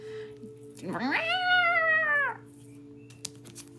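A cat lets out a single drawn-out meow, loud and close, rising then falling over about a second and a half, with a low steady hum beneath and a couple of faint clicks afterward.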